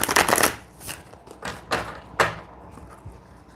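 A deck of tarot cards is reshuffled indoors in several quick, close riffling bursts that fade into quieter rustling, with no talking.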